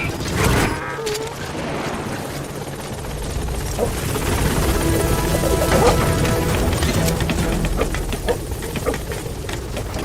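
Helicopter rotor thrum from a support chopper arriving at a landing zone in Metal Gear Solid V, a steady loud whirring wash that swells slightly and holds throughout, with faint clatter and bird calls in the game backdrop.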